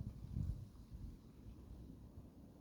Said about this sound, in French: le vent qui peut-être se calme là va peut-être me permettre de faire une prise un peu propre parce que sinon ça parasite beaucoup